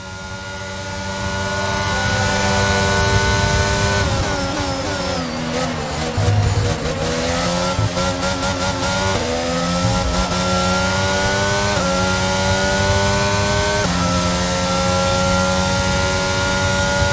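Formula 1 2022 race car in the video game at the Italy circuit, engine revving hard through gear changes with rising and falling whine, loud and continuous for the whole stretch with no talk.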